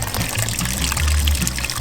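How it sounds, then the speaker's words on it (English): Boiling water poured from a coffee pot into a collapsible dish pan at a campsite, a loud close steady pouring splash lasting a couple of seconds, with no talk. "I'll put the boiling water in, do dishes"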